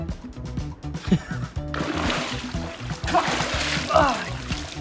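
Water sprays and splashes steadily at a car wash, a broad hissing wash of spray that swells partway through, with voices talking and laughing over it.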